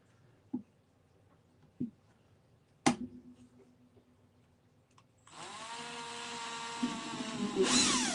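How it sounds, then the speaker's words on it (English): A power drill bores a pilot hole into a thin piece of wood during a kit build, whirring steadily at close range for a few seconds and rising in pitch near the end, after a few light knocks and clicks. "I just like doing the pre-drill drill hole for the main event here"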